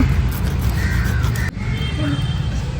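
Crow cawing outdoors at a home cooking fish gravy, steady background noise underneath, with a few faint calls drifting in over the continuous outdoor hiss.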